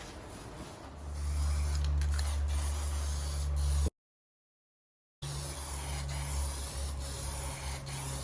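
Degreaser sprayed in a steady hiss onto the deck of a John Deere LA145 lawn tractor, a continuous close spray running for several seconds with a low motor hum beneath, then a break before the spraying resumes.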